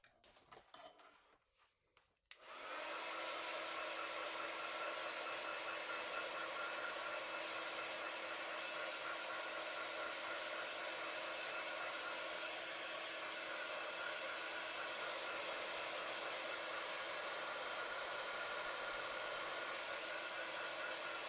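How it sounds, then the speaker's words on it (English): A hair dryer blasts a wet watercolour painting of golden wheat, starting abruptly after a brief quiet moment and then running as a loud, continuous, steady whoosh with a constant motor whine. "And then I'm going to give it a really good dry."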